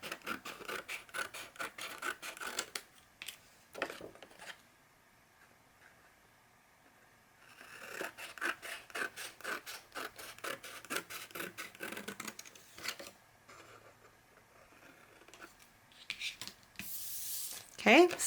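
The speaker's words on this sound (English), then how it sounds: "we're going to cut the 1/2 inch section off." Scissors cut paper for a camping and hiking travel album, making quiet, rapid snipping and rasping strokes in several bursts with pauses between them. A voice talks at times.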